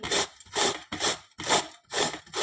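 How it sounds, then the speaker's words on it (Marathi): Raw green mango is grated by hand on a kitchen grater in five even, rasping strokes, close up and alone. "आता आपण ही कैरी या किसणीने किसून घेऊया अशा पद्धतीने आपल्याला कैरी किसून घ्यायची आहे"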